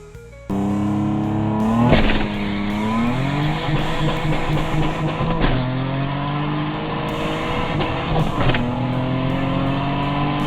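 A car engine in the video game Pacific Drive revs and accelerates steadily, rising in pitch through repeated gear shifts, loud and continuous with no speech.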